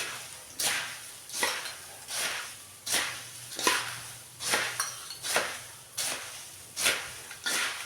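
Murmura chivda being mixed in a pan, a steady rhythm of close, rustling scrapes and tosses repeating about every three quarters of a second, with no talk over it.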